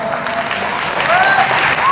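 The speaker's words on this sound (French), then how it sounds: "je vous demanderai un tonnerre d'applaudissements" A French convention crowd at Paris Manga bursts into loud applause for wrestling guest Kevin Nash, close and full, with an announcer's voice and whistle-like tones riding over the clapping.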